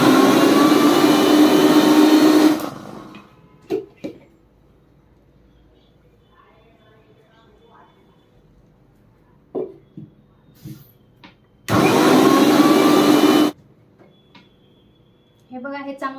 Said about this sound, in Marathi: तर आता ह्याच्यामध्ये ना थोडासा गूळ टाकायचा आहे, आणि थोडेसे शेंगदाणे। तर असं करून आहे ना आपल्याला हे वाटून घ्यायचं आहे।